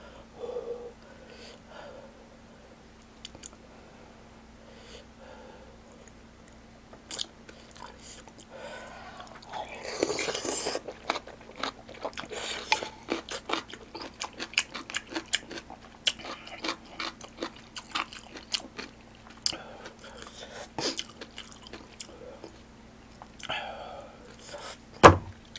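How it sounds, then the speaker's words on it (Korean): Close, wet chewing and crunching of kkakdugi, cubed radish kimchi, eaten with yukgaejang and kimchi dumplings in a mukbang, with irregular crunchy bites over steady low background hum and a loud thump at the end. "깍두기 하나 올려서 먹을게요"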